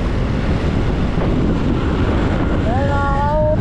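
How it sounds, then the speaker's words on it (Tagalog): Strong wind buffets the microphone continuously outdoors near the water, a steady rushing roar throughout, with a faint tonal whine near the end. "Ang lakas ng hangin."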